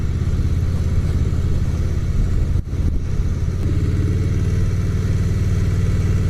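A Harley-Davidson Softail Slim motorcycle engine runs with a steady, deep low-pitched rumble at close range, holding an even throb throughout with a brief dip partway through.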